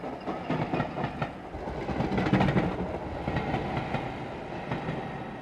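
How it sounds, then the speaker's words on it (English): A ghost train rumbles past an abandoned station in the video game Dark Fall: The Journal, a loud continuous rolling roar with rhythmic clickety-clack of wheels, heard alone. "This train station has been abandoned for years, so that is not a real train."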